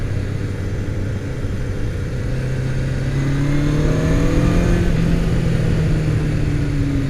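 A 1978 Honda CB750F engine drones loud and close while riding, swelling as the revs climb midway before settling back to a steady cruise. Nobody speaks.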